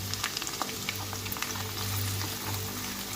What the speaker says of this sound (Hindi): उसी ऑयल के अंदर हमने प्याज शामिल कर दिए हैं